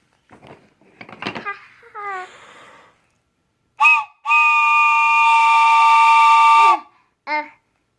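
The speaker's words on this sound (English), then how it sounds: "That's a train whistle." A toy train whistle blown in short and long bursts: one brief toot, then a loud sustained multi-tone blast lasting over two seconds, then another short toot, after a small child's babbling.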